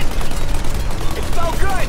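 Rapid gunfire in Mafia: Definitive Edition, fired at the engines of a plane taking off. It keeps up a dense, continuous rattle across the whole moment, with whistling, ricochet-like tones near the end.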